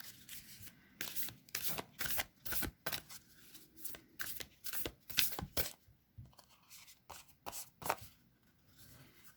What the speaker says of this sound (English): Okay, so we will shuffle these cards.